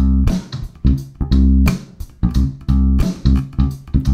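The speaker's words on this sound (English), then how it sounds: "So let's bring a drum groove in." A drum groove backing a pentatonic bass exercise, with punchy kick and snare hits repeating in a steady rhythm, loud and close with bass tones ringing between the hits.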